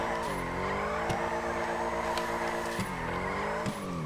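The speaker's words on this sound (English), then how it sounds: "Now we're getting some good drift." A car drifting in GTA with a sustained, loud tire squeal over a steady engine drone, the screech bending in pitch as the slide shifts.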